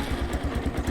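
A dirt bike engine fires up on its electric start, settling into a rapid, pulsing putter close by, loud and uninterrupted.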